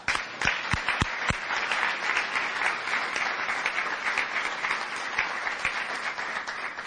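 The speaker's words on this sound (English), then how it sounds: "one more round of applause for these incredible young people." At a student athlete of the year banquet, the room breaks into applause for the young athletes, a full, sustained round of clapping with a few sharp close claps at the start, easing slightly toward the end.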